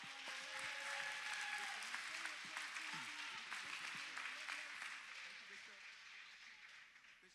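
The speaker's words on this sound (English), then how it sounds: "let's give a big round of applause for Ann Fong and the Fong Law" Audience applause at a charity fundraising event, a soft, fairly distant wash of clapping that fades out, with voices faintly mixed in.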